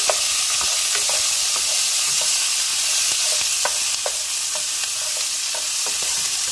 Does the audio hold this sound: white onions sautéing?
yes